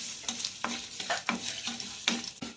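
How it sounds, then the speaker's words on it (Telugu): Green chillies and ginger frying in oil and being stirred with a utensil, steady sizzle broken by repeated scraping strokes, close and moderately loud with no talking. "మొత్తం నూనెలో వేయించుకుందామండి మిరపకాయలు"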